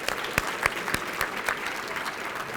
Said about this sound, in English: Let's give him another clap for that.